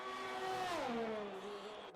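F1 car from the video game F1 2020 on a qualifying lap at the Netherlands round, its high engine whine rising then dropping sharply as it shifts and slows, fairly faint and steady, with no talk.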